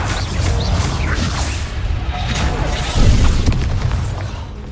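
A Bombarda blasting spell from Hogwarts Legacy detonates in a deep, booming explosion with a crashing burst, following a fight sequence and rumbling on briefly, with a spoken voice nearby.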